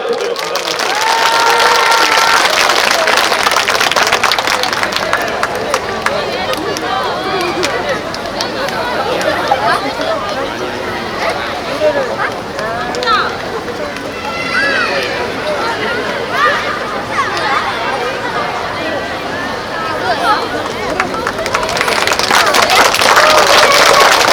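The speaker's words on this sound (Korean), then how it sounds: "큰 박수로 맞아주시죠" An outdoor audience at a Korean summer night festival gives loud, sustained applause and cheers as a five-member classical vocal group comes on stage, with crowd chatter mixed in.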